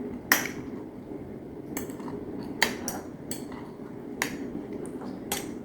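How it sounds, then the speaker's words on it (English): A utensil stirs tightly packed sauerkraut inside a jar, giving about seven sharp clinks and taps at irregular intervals over a quiet room background. No one speaks. "I'm just going to kind of mix this kraut up a little bit in the jar"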